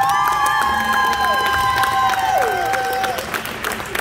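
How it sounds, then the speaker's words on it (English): Festival crowd applauding and cheering for musicians after a performance, a dense wash of clapping with whoops, while a sustained musical tone bends and slides above it. "Give a round of applause to all the musicians on the stage."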